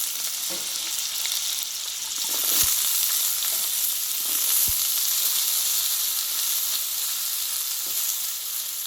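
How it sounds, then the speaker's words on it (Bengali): Cubed potato pieces fry in oil with ginger and green chilli, giving a steady close sizzle over the whole stretch, broken by a couple of sharp utensil knocks. "এই আলুটা আমি একটু তেলে কষিয়ে নেব"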